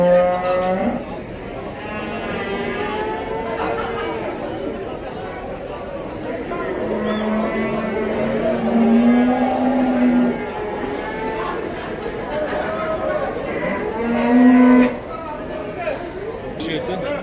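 Cattle at a livestock market in Taraz low repeatedly, several drawn-out moos rising out of a busy crowd, with a trader calling prices loudly over the animals throughout.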